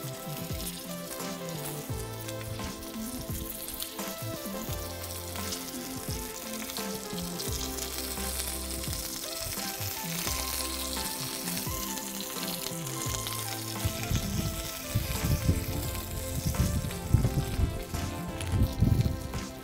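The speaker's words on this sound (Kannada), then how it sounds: "ಒಂದೊಂದೇ ಮೆಣಸಿನ್ಕಾಯಿನ ಹೀಗೆ ತವ ಮೇಲೆ ಇಡಬೇಕು. ಮೇಲ್ಗಡೆ ಸ್ವಲ್ಪ ಎಣ್ಣೆ ಹಾಕೋದು." Stuffed chillies filled with roasted gram and onion frying with oil on a tawa: a steady, close sizzling hiss continues throughout, growing slightly busier toward the end, with low background hum and no talk.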